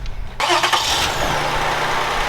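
Grandma's car, a worn car burning oil, cranks briefly and fires up, then settles into a loud, steady idle close by.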